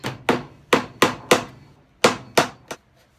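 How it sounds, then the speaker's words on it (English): A hammer drives a nail into wood while building a wine rack: seven sharp, loud, close strikes in uneven rhythm, each a crisp knock with a short decay, spaced roughly half a second apart with a brief pause midway. "I'm going to tack one of the nails in just to get me started."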